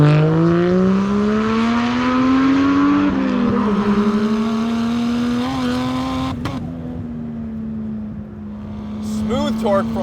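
Turbocharged 1JZ inline-six in a Toyota Mark II JZX100 pulls steadily under load, its engine note rising smoothly, dipping at a shift, then climbing again, loud and close, with brief sharp noises near the end.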